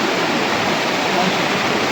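Loud, close rushing water roars without pause, a thick, churning flow of floodwater surging through a village after four days of heavy rain.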